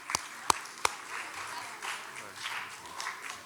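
A few sharp claps ring out from the audience in a school mock-trial courtroom, then fade into a quiet murmur of voices in the room.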